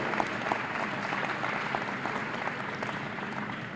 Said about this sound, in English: Give yourself a round of applause for the great work that you do.